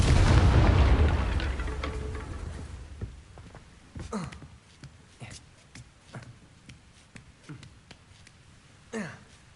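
A Confringo fire spell blasts in the Hogwarts Legacy video game, opening with a loud, roaring burst that fades over a few seconds, followed by scattered crackling impacts and a sharp late hit.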